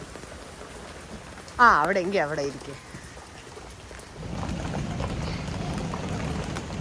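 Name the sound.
rain falling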